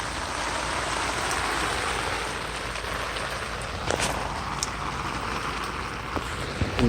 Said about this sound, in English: Ah, the rain just died down a tad.